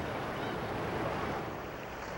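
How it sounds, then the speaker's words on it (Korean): Sea waves wash onto the shore below a cliff on Dokdo island, a steady broadband roar of surf mixed with wind buffeting, continuous and fairly loud with no distinct breaks. "절벽 아래 바닷가."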